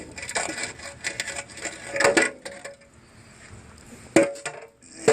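A rusty chute is pulled off a Sears Craftsman 5HP Tecumseh wood chipper shredder, giving close, intermittent metallic scrapes, clunks and rattles in short bursts with quiet gaps between.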